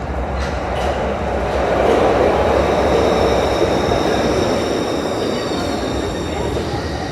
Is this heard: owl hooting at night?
no